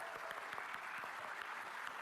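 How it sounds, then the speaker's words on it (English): An audience at the Game Awards claps together, a dense run of hand claps, steady and fairly faint, filling the short stretch without any talking. "everyone here to give yourselves a round of applause."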